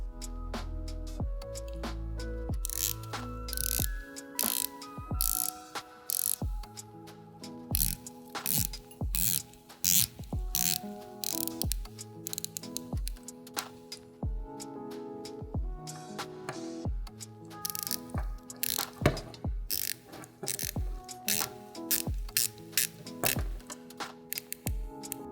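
An Omega Seamaster watch bezel is turned, giving quiet bursts of crisp ratcheting clicks in irregular runs, with soft music underneath.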